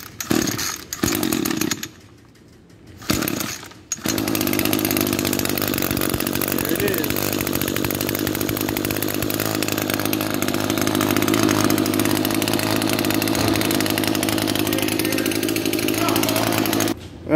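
A 2013 Echo SRM 280 two-stroke engine with a modified exhaust sputters through a couple of pull attempts, then catches and runs loud and raspy with a buzzing, brash exhaust note.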